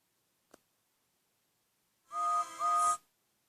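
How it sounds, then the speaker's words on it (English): After near silence and a faint click, a train whistle sounds in two clear, sustained blasts, loud and close. "Just then, he heard a whistle."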